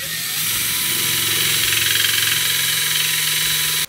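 A power drill bores into a hard steel part inside a JBL speaker's passive radiator. It gives a loud, continuous high whine that runs steadily for several seconds and then cuts off.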